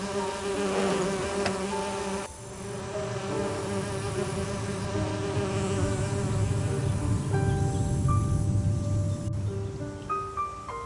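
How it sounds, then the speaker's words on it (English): A mass of drowsy bees drones continuously, a dense steady buzzing with shifting tones that fills the whole stretch, close and fairly loud, with no voices. "The bees are now fast asleep. All quite drowsy, anyhow."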